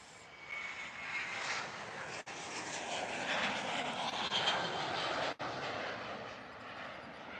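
Boeing 737-700 and 737 MAX 9 jetliners rotating on takeoff side by side at Houston IAH, a sustained distant jet engine roar that swells steadily.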